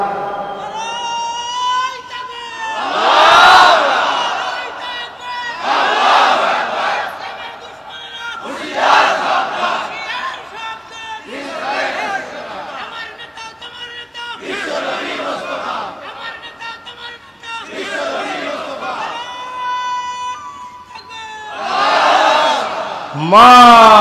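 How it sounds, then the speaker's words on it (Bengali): A large crowd in Shyamnagar at a Bangla religious sermon gathering shouts the takbir, 'Allahu Akbar', in loud, repeated bursts. Each bursts out with roaring voices, followed by a short pause before the next call. "শ্যামনগরের জনগণ, আপনারা একজনে তাকবীর দেন তাড়াতাড়ি।"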